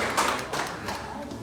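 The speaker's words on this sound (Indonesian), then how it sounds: "Beri tepuk tangan dulu yang baik buat Tuhan kita." Church congregation claps together in praise during a sermon, a short burst of applause fairly close, mixed with a little background voice.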